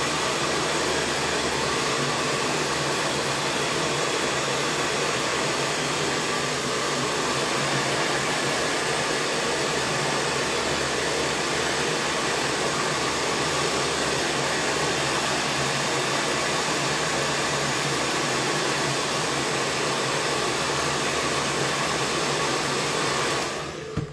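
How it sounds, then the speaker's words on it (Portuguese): A hot hair dryer blows continuously on a napkin during a craft session, a loud, steady broadband whoosh of airflow and motor hum that holds unchanged for the whole stretch before cutting off at the end. "seco com secador quente mesmo"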